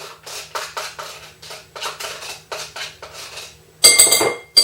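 Softened butter being beaten in a bowl with a wooden spoon for a New York style baked cheesecake, a steady run of rhythmic knocking strokes, roughly two per second, ending with a brighter clatter.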